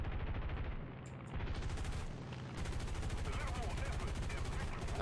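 Rapid aircraft machine gun bursts from a P-38 fighter in the War Thunder video game, loud, dense firing with short pauses between bursts.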